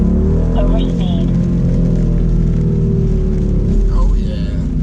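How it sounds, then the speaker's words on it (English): Rain while driving a car in track mode, a steady wash of road and rain noise over the engine's low drone, with a person's voice briefly mixed in. "It's interesting driving this thing in track mode when it's raining out."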